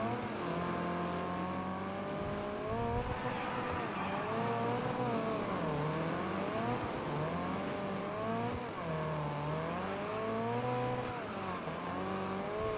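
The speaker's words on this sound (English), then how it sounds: "this is a tiny little European hatchback car" A tiny European hatchback racing in Wreckfest 2, its engine revving hard and steadily with rising and falling pitch through gear changes, loud and continuous against other cars on the track.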